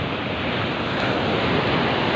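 Big ocean waves crash on a beach in a continuous, loud roar of surf, with steady broadband wash and some wind rumble and no voices.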